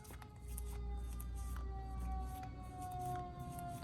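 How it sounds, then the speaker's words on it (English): Sirens wail outside at a distance, a faint steady rising and falling tone heard through a room, with no talking over them. "Don't mind the sirens"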